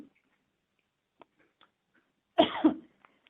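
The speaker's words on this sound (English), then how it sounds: "I'm sorry for me coughing at this inopportune time." A single sharp cough, made of two quick bursts, breaks an otherwise quiet online board meeting. Only a few faint ticks come before it.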